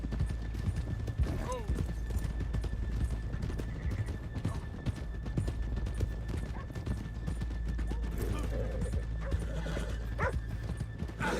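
Horses gallop in the video game Red Dead Redemption 2, a fast, continuous clatter of hooves with a whinny partway through, mixed with game ambience and brief voices.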